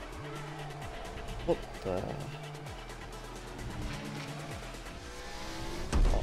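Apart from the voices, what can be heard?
race cars skidding and revving in Fortnite video game event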